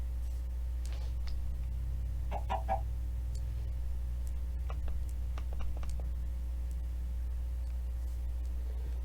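Chicken clucking in a video game, a few short, soft clucks scattered over a steady low background hum, with no talk.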